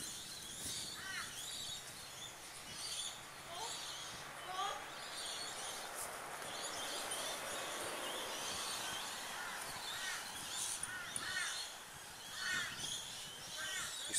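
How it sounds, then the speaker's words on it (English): Crows cawing at Bongaree on Bribie Island, a series of harsh calls repeating at intervals, some near and some farther off, over outdoor background noise with people talking. "Look at those crows there."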